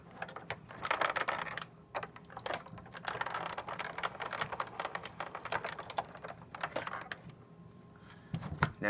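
Stacked A and B plates with an embossing folder crank through a manual die-cutting machine at close range. Fairly quiet, the rolling gives a dense run of small clicking and crunching ticks that keeps on steadily for several seconds.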